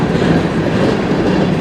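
A westbound CN freight train passing close by, a loud continuous rumble of rolling railcars with faint rhythmic clatter of wheels on track.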